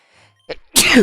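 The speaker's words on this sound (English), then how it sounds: "I almost sneezed the third time." A single sharp sneeze, preceded by a short catching breath, loud and close in a quiet indoor room.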